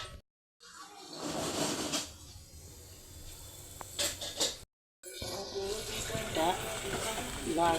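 A Telugu curry with tamarind leaf powder sizzles and bubbles in a pan, a steady close frying hiss with brief stirring scrapes and a couple of short gaps.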